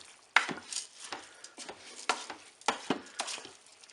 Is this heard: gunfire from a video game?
no